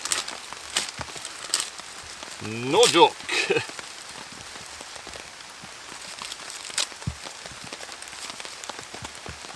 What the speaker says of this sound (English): It's actual chucking it down with rain now.